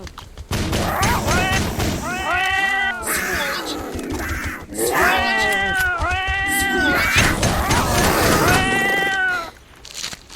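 Cats meowing and caterwauling in S.T.A.L.K.E.R.: Vozvrashchenie: several long, loud, wavering yowls overlap in close bursts against game noise, with a brief lull between cries and a short quiet gap near the end.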